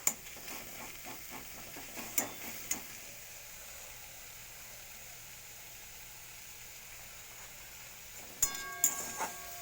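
Leafy greens sizzle quietly in a pan after boiling down, with a cluster of stirring clatters at the start, a long low hiss in the middle, and more utensil knocks near the end.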